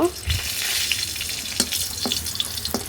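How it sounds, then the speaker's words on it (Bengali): Dried red chilies fry in hot oil for a rui fish tail bharta, with a continuous close sizzle punctuated by a few sharp stirring clicks. "এই তেলে আমি কয়েকটা শুকনো মরিচ ভেজে নিব"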